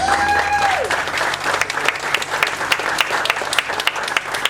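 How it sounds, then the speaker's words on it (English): Audience applause at a duck calling contest in Conway, Arkansas, a steady wash of clapping from a crowd with a brief tonal call or whistle fading out at the start, sharp individual claps standing out near the end. "Give her a round of applause."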